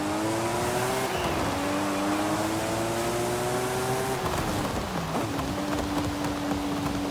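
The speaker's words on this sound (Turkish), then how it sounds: "Araba ateş ediyor, ateş." A Nissan Skyline GT-R engine in the racing game Forza Horizon 5 drones loudly and continuously as it revs and shifts, its pitch climbing and dropping, with crackling pops under the engine note.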